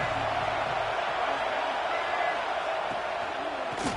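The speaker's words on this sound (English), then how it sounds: "This crowd ready to make its presence known." A packed college football stadium crowd roars at Ole Miss at Georgia, a dense, sustained wash of cheering with no breaks, while a commentator's voice sits faintly underneath.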